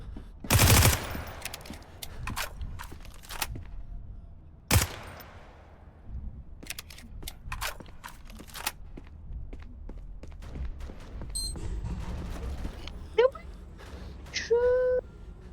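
Pump-action shotgun fire in the Roblox game AR2, two sharp loud blasts a few seconds apart, followed by scattered distant shots, footsteps and bumps, with someone talking over parts of it.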